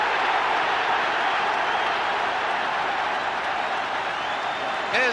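A 1978-79 football stadium crowd roaring and applauding a Sunderland hat-trick goal, a loud sustained wash of cheering and clapping throughout.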